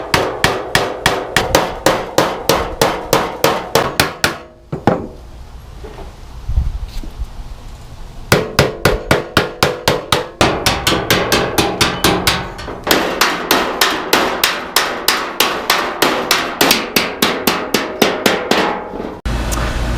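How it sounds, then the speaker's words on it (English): Rapid metallic hammer blows with a hammer and dolly on an International Scout II fender, struck in quick bursts with brief pauses, loud and close. "We've been hitting it with a hammer and dolly multiple times"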